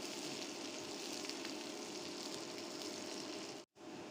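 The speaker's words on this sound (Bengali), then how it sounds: "পেঁয়াজ অলমোস্ট ভাজা হয়ে গিয়েছে" Onions sizzling steadily in mustard oil while a pabda fish curry is being prepared, a dense, even frying hiss that stays loud and constant, broken by one brief silent cut near the end.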